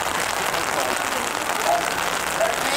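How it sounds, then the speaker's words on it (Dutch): Heavy rain pours down steadily at an outdoor youth BMX race in Baden, a dense continuous hiss of drops on surfaces with faint crowd noise mixed in. "Terwijl het harder gaat regenen hier in Baden."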